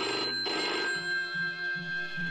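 A telephone bell rings in a police-drama scene, a loud electronic trill that pulses with a steady repeating rhythm and is heard alone, without talk.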